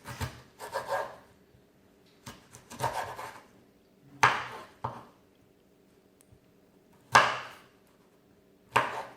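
A knife cuts through juicy fresh pineapple in a series of short, wet slicing and rasping strokes, each separated by a pause, heard up close with no talking.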